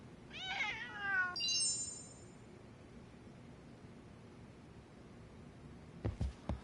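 A cat meows twice in a row in the Lost Judgment video game, its short wavering cries clear and fairly close over a quiet background, followed later by a few soft rustling thumps.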